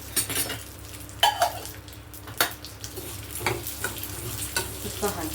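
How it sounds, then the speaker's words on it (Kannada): Areca nut powder ingredients roast in ghee in a pan, a soft steady sizzle broken by several sharp scrapes and clinks of a metal spoon stirring against the vessel. "ಒಂದಿಷ್ಟು ಹುರಿಬೇಕು."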